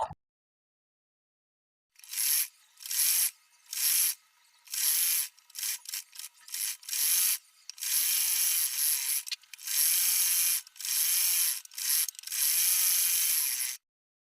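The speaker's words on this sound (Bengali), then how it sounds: "এক পায়ের মার্ক থেকে দেখুন ধরে আমি ঠিক আরেক পায়ের মার্ক পর্যন্ত আমি এখানে দুইটা করে সেলাই দিয়ে নেব" A sewing machine stitches the leg hem of a salwar in a series of close mechanical whirring bursts of varying length, separated by short pauses, with no talking.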